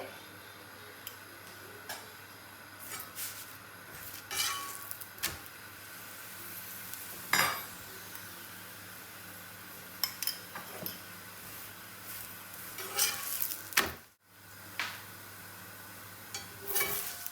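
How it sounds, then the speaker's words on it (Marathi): Cabbage paratha roasts in oil or ghee on a pan, a faint steady sizzle under scattered light ticks and utensil clinks, close and quiet, with no talking. "तेल किंवा तूप लावून पराठा दोन्ही साइडून खरपूस भाजून घ्यायचा आहे"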